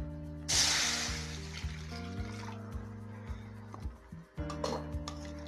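Water pours into a cooking pot on the stove for noodles, a splashing fill that starts sharply and then settles, with clinks of metal and a steady hum underneath.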